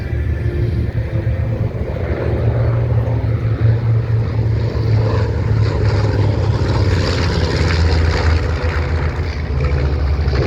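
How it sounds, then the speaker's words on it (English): A B-25 bomber with two Wright Cyclone radial engines flies past, a loud continuous propeller roar and engine drone that holds steady and swells slightly as it passes, with no talk. "I just love the sound of those Wright Cyclone engines. 2 of them strapped onto the B-25"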